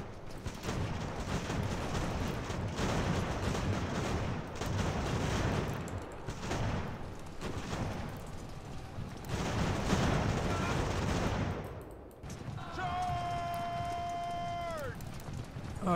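Troops firing in the battle game Ultimate General: American Revolution, a steady din of scattered musket volleys and crackling shots with galloping hooves mixed in, under ongoing talk and a bugle-like tone near the end.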